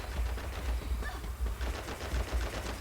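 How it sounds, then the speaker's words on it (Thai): Rapid bursts of automatic gunfire in the video game Free Fire, a dense rattling stream of shots that continues for the whole stretch with no talking. "ตอนนี้เขาก็ยิงกันนะ"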